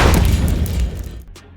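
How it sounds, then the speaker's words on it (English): A small explosion from a hydrogen fire bursts out loud and close, a dense roaring blast that rumbles on for about a second before breaking up and fading, with a couple of faint pops trailing after. "causing a small explosion."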